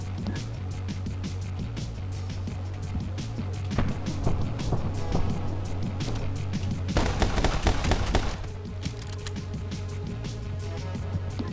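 Gunfire from the video game My Friend Pedro cracks in scattered sharp shots, with a dense burst of rapid fire near the end, set against a low steady game soundtrack.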